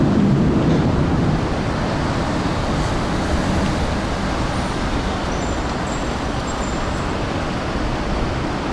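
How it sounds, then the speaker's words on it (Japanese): Strong wind buffets the built-in microphone of a Sony FDR-X3000 action camera outdoors, making a steady, loud, rumbling roar that fills the whole stretch without pause, with faint traffic-like noise underneath and no voices. "今ね結構風も強いです。"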